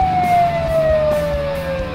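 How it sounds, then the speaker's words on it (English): An ambulance siren sounds loud and close as a single sustained wail that slowly falls in pitch, over a low vehicle rumble. "Let the ambulance through."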